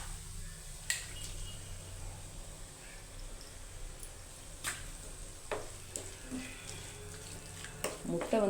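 Okra sautéing in a pan while an egg is cracked into it makes a faint, steady, low sizzle, broken by a few sharp clicks and taps of utensils against the pan.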